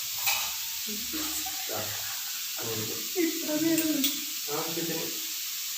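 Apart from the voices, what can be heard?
onions sautéing with salt in pan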